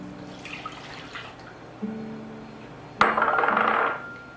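A cup of water is poured into a pan holding two sticks of margarine, a bright splashing gush near the end after a couple of lighter clinks and trickles.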